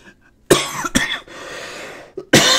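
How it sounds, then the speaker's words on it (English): A character in the video game Steins;Gate Elite gives a few sharp, close coughs separated by short pauses, with breathy throat noise in between. "I cough"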